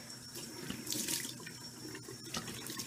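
A bathroom sink tap runs steadily while someone rinses their face, with close splashing and dripping water and no talking.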